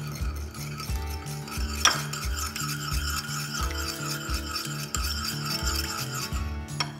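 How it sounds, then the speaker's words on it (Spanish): Naan topping of cilantro, melted ghee butter and salt being stirred in a bowl, a steady rubbing, scraping rhythm with repeated low thumps of the utensil against the dish, close and fairly loud with no talking. "y revolvemos"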